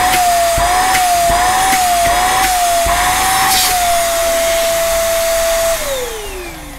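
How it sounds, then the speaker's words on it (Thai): An OTTO HV-092 handheld vacuum cleaner running, a loud, close, steady motor whine with a slightly wavering pitch that drops as the motor winds down at the end, with faint clicks of handling. "คือเรื่องเสียงดังเนี่ยไม่ต้องห่วงเลยเพราะว่ามันเป็นเครื่องดูดฝุ่นอ่ะ"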